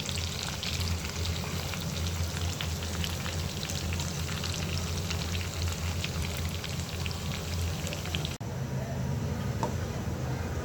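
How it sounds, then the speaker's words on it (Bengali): Beef kebab pieces fry on a hot tawa with ground black pepper, giving a steady, dense sizzle like light rain that continues unbroken and close, with a faint voice briefly beneath it. "গোলমরিচের গুঁড়ো দিয়ে ভেজে নিলাম"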